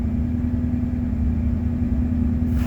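A 1988 Ford F150 with a 5.0 engine idles roughly, a steady low, throbbing hum with a slightly uneven pulse, heard close and continuous without any revving.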